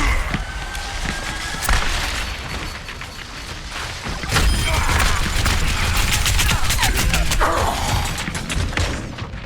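Gunfire aimed at the player in Overwatch, rapid crackling shots and impacts packed into a steady, loud barrage that swells midway and carries on.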